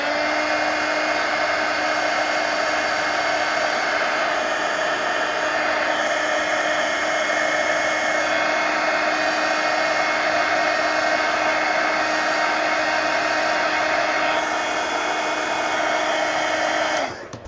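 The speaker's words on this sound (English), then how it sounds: "or use a heat gun" A heat gun drying art supplies runs as a loud, steady high whine and rush of air, unbroken for the whole stretch and cutting off at the end.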